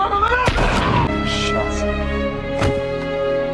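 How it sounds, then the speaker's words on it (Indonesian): Gunshots in a bank robbery film scene: two sharp, loud bangs, one early and one a couple of seconds later, cut through sustained tonal music and ambience. "Dalton CS mengeksekusi seorang Sandra dengan menembak kepalanya"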